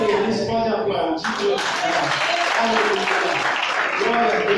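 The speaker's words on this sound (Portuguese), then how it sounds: "Eles podem aplaudir." A church congregation breaks into broad, steady applause that fills the room, with a voice speaking over the clapping at the start.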